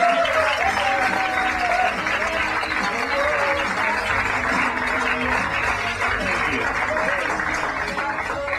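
A stand-up comedy audience applauds as Louis C.K. is welcomed onto the stage, giving a sustained wash of clapping and crowd noise with a voice talking over it.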